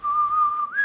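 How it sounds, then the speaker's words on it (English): A person whistles a song melody, a single sustained tone that holds steady, then slides upward near the end, loud and close with no talking. "Let's see if I can whistle some."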